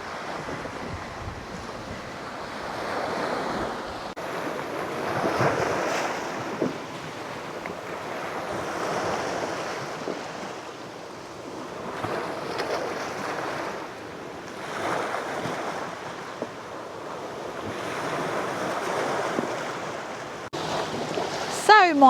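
Ocean waves roll in rhythmically on a tiny beach on Koh Samui, surging and receding every few seconds under steady wind buffeting the microphone.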